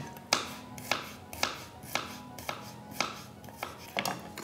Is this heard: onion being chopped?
yes